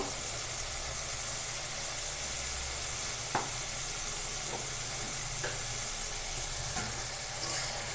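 Chicken sautéing in a pan with dry red chillies makes a dense, steady sizzle and hiss, with a few faint utensil taps on top.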